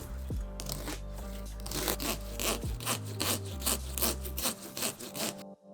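A drywall saw cuts into a pumpkin, with rough back-and-forth rasping strokes in an irregular rhythm, close and fairly quiet, ending abruptly; a low hum runs beneath early on.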